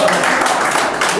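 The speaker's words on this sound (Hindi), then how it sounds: "तालियां सही तो बज रही हैं ना?" A hall audience at a coaching-institute talk claps in a continuous, even wash of many hands, moderately loud and close, with no voices over it.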